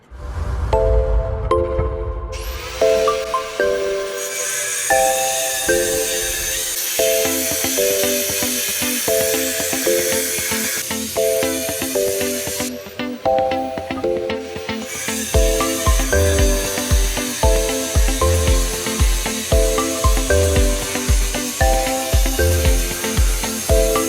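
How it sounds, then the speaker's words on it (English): A DeWalt angle grinder with a continuous rim diamond blade cuts concrete pavers outdoors, giving a loud, close, sustained high whine and gritty hiss that rises and falls in pitch as the blade bites into the stone. "To cut these pavers, we're using the DeWalt continuous rim diamond saw blade with 7/8 inch arbor."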